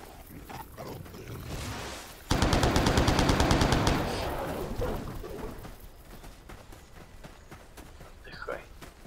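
Automatic gunfire in Stalker Online erupts in a fast, evenly spaced burst of loud shots lasting under two seconds, then fades into softer game ambience, with someone talking around it.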